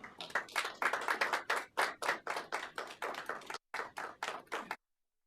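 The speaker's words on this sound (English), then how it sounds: "let's give our school board a big round of applause." An audience at a Kalamazoo Public Schools board of education meeting claps in a brisk, fairly sparse burst of applause, with distinct individual claps over about five seconds before it stops abruptly.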